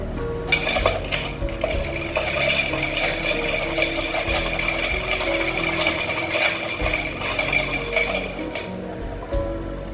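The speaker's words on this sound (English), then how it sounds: "So it's going to be easy for me, so I'm just going to stir it." A Gimlet cocktail stirred with ice in a mixing glass, giving a steady, close run of light clinking and rattling ice that continues for nearly the whole stretch without any talking.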